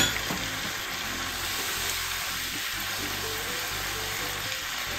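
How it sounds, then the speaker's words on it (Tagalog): Water poured into a hot pan of frying beef, a loud continuous hiss and sizzle with a running-water rush, close and steady throughout, no talking. "Lalagay po tayo ng tubig."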